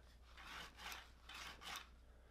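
Rhythmic rubbing or grinding from inside a 2022 Honda CRF450 motocross bike that may be low on oil, four broad rasping swells in slow succession over a steady low hum, with no voices.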